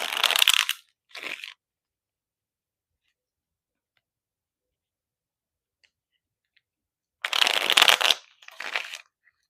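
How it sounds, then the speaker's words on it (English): Tarot cards riffled and shuffled by hand in two short bursts at the start, then near silence, then two more crisp bursts near the end, close and fairly loud. "Let's get a couple more shuffles"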